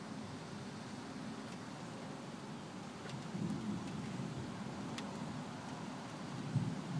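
A loud summer thunderstorm pours heavy, steady rain while thunder rumbles and swells through the middle and near the end, with a few sharp crackles over the constant downpour and no voices.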